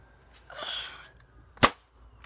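A Nerf Rotofury blaster fires a dart outdoors: a brief airy whoosh precedes one sharp, loud pop, then quiet.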